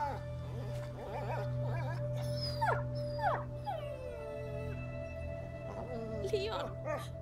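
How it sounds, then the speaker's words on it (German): Dog in the video game A Plague Tale: Innocence whimpering and howling, a run of high, wavering whines and yelps over a steady low drone, with a voice talking intermittently underneath. "Oh nein, ich höre Hundi. Leon, Hundi klingt nicht gut."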